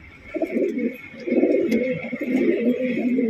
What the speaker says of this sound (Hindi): ये है कबूतर